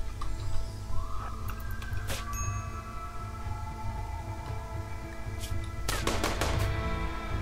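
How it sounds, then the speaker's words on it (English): Gunfire from the colony game Rimworld during a fight with a yak: sharp shots near the start and around two seconds, then a clustered volley of cracks near six seconds over a low background rumble. "Don't shoot Paola."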